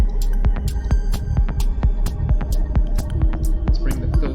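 A synthesized techno percussion pattern in a house or trance style, with steady booming kicks under quick, crisp hi-hat ticks and snappy clicks, looping at an even, driving pace.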